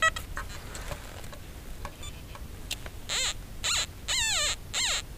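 Soft rustling and scraping in a field, then a series of high warbling electronic tones from a metal detector with an X35 coil, repeating in short bursts, close and clear.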